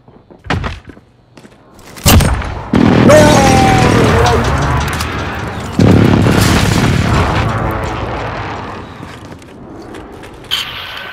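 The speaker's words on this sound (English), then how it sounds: "Enemy precision airstrike! Take cover!" A precision airstrike in Call of Duty Warzone: several heavy, booming explosions land close by, each with a deep rumbling tail, while voices shout over the blasts.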